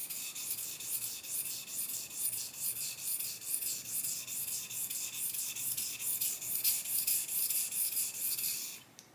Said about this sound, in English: You could also probably tell by the sound of the honing as well.